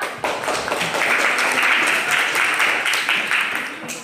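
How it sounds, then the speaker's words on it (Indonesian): A classroom of students claps together, a brisk, even rattle of many hands that rises quickly and holds steady for a few seconds, close and fairly loud in a small room. "Tepuk tangan dong."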